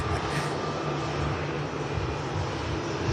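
An airliner on a Delhi flight at Manchester Airport roars steadily with a broad, continuous engine drone, loud and sustained without any voices.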